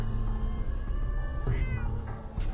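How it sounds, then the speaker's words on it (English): A cat meows several times in a game with players ringing things at a farm, drawn-out plaintive cries of moderate loudness over a steady background hum. "Oh, hello, kitty."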